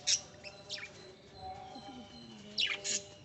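Small caged lovebirds, yellow and green, give a few sharp high chirps in short bursts, with a quiet pause between them and a faint hum underneath.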